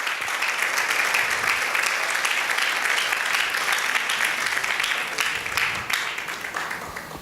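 A church congregation gives loud, sustained applause that fills the room for several seconds, then gradually tapers off near the end.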